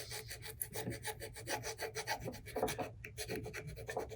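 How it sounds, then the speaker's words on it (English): A burnishing tool rubs a decal onto a fishing rod, close and quiet, a steady rhythmic scratchy back-and-forth rasping in quick even strokes with a short pause near the end. "I'm just burnishing, rubbing on that decal"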